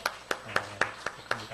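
Quick, evenly spaced claps ring out about seven times in a steady rhythm, fairly soft, like a church congregation clapping together in time during a Sunday service.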